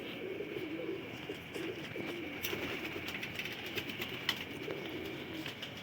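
Pigeons on a rooftop loft, a pair and golden birds among them, give soft continuous cooing with faint chirps and wing stirrings, steady and moderately near against outdoor background noise.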